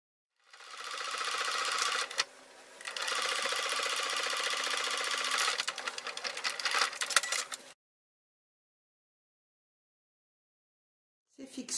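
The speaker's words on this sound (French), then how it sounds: "On refait une petite couture sur le bord comme ça pour que ça tienne bien en place" A sewing machine runs a seam along the edge of a fabric pouch in a steady whirring stretch, breaks off briefly, resumes for several seconds and stops, then restarts faintly at the very end, close and loud.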